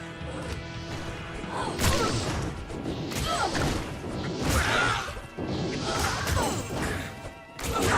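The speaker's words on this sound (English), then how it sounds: "Corpse explosion." Corpse Explosion from Diablo II, cast in a hardcore ladder game, bursts with repeated heavy crashing blasts and thuds, several impacts in quick succession over a busy, loud background of game effects.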